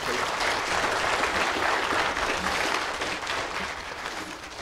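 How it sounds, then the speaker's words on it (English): Sustained audience applause fills a church service, steady dense clapping that holds for several seconds and eases slightly toward the end, with no talk over it. "Y'all give him a round of applause."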